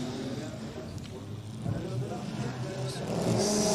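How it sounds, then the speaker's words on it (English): Two drift cars, one a BMW E46, launch off the start line together at a drift championship in Oman, engines building from a steady rumble into louder revving while a commentator talks over them. "See both cars leave the line"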